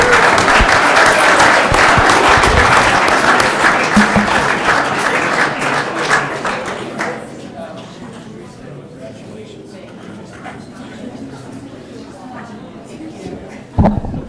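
An audience at a Kaysville City Council meeting applauds the honorees, loud dense clapping that gradually thins and fades over about seven seconds, followed by quiet room noise and a speaker's voice.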